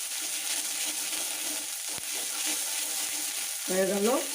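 Ginger and green chillies frying in oil in a home vegetarian kitchen while making aloo chop: a steady, close hiss of sizzling with stirring, a brief knock near two seconds and a short tonal squeak near the end.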